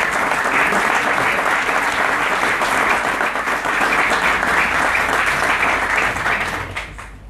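Warm applause fills the hall at a ceremony marking a bar association's 30th anniversary, a loud, steady wash of many hands that tapers off in the final second.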